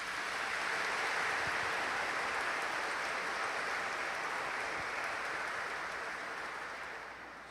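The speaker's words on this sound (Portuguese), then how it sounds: "E para glorificar Deus, dá uma salva de palmas." A church congregation applauds during a homily, a broad wash of clapping that swells at the start, stays dense and even, then slowly thins toward the end.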